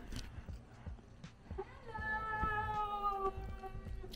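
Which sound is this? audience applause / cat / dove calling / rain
cat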